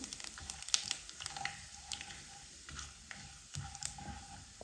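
A stick of cinnamon, a black cardamom pod and a spoon of cumin lightly roast in hot oil with a bay leaf, giving a quiet, steady sizzle broken by soft clinks and scrapes of stirring.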